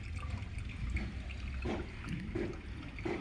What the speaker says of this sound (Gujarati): કેટલું તો પાણી જાય છે